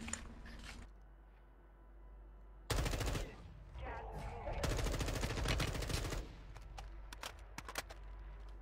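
Gunfire in Call of Duty Warzone, with shots fired from a hill: loud bursts of rapid automatic fire broken by quieter stretches of low background rumble and a few scattered single shots.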